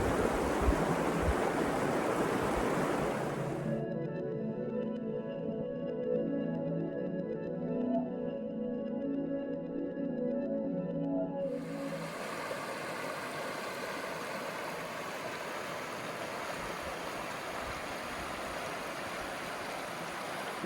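Gila River running fairly quick but shallow at a hiking crossing, a steady broadband rush of water throughout, loud and close, with a stretch in the middle where the hiss drops and a lower, fuller gurgle comes forward before the full rush returns.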